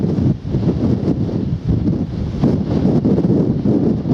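Strong wind sweeps across open countryside on a rural walk from Ham Street to Appledore, a loud, steady roar buffeting the microphone in gusts with no one talking.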